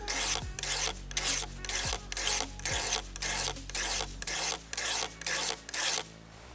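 A knife blade strokes along a sharpening stone in about a dozen even, rasping passes, close and regular with brief pauses between them, and no one talks.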